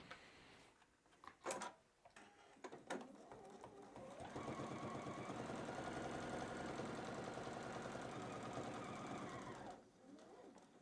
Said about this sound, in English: I'm going to sew that edge closed right now to get rid of all of the raw edges.